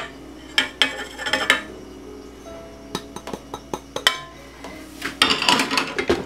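Malted milk mixed into cheesecake batter in a bowl, with irregular clinks and knocks of a utensil against the bowl, some bursts quicker and louder, close by and with no talking.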